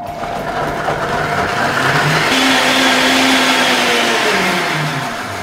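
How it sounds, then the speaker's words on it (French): A blender runs loud and steady while puréeing a salted chestnut espuma mixture seasoned with Espelette pepper, its motor pitch shifting slightly partway through before easing off toward the end. "Il ne reste plus qu'à mixer l'ensemble jusqu'à l'obtention d'une texture lisse et homogène."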